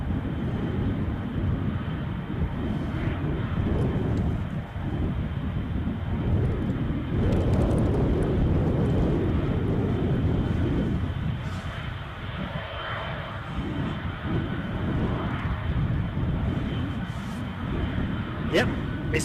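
An ATR turboprop airliner taxis at Edinburgh airport in gusty crosswind, its steady engine drone continuous throughout, partly masked by wind buffeting on the microphone, with someone talking over it.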